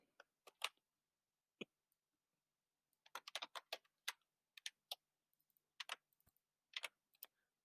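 Quiet computer keyboard typing while coding, scattered clusters of crisp close keystrokes with short pauses between bursts, no talking.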